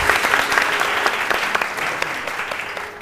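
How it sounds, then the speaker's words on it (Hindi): A studio audience at a television morning show claps continuously, a dense, steady burst of applause with no talking over it. "इनके लिए तालियां बजाएं बहुत सारी।"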